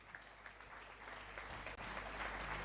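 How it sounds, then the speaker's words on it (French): Applause from the audience at a conference on sexual harassment in the media after a speech: sustained, fairly faint clapping from a crowd, with a brief dip partway through, then continuing at a steady level. "un discours poignant qui mérite une fois de plus des applaudissements"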